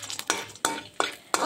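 Bori lentil dumplings frying in mustard oil in a kadai, stirred with four evenly spaced scraping strokes over a steady sizzle, close and fairly loud.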